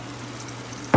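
A brief stir of braising oxtails in a pan, a single short scrape and sizzle bursting in at the very end after near silence.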